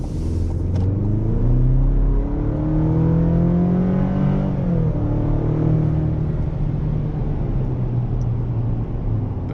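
A 2024 GMC Canyon Elevation pickup's engine rises steadily under hard acceleration, its note climbing, briefly dipping at a shift, then pulling again, loud and close from inside the cab with a steady road rumble beneath.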